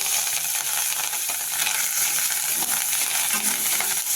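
Steady, close sizzling of chillies and coriander frying in a pan with faint stirring scrapes, continuous and fairly loud, no voices.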